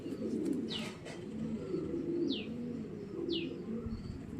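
Racing pigeons at a pigeon farm in Bangladesh coo softly in low murmurs, with three short, high chirps cutting through at intervals, fairly close and moderately quiet.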